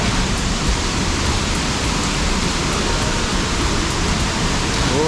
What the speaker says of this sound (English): Oh, it's like it's raining in this cave